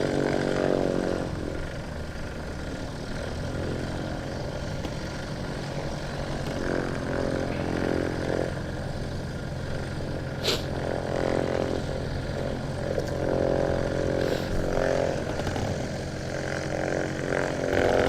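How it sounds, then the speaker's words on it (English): Four-engine Nimrod XV232 jet aircraft running its engines up at Coventry Airport, a steady loud roar with droning low tones, continuous and unbroken, heard from nearby outdoors. "they're going to be powering up, spooling up each of the engines"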